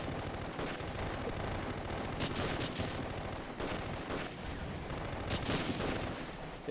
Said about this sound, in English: let's shoot close to him and see if we can get him with some high explosives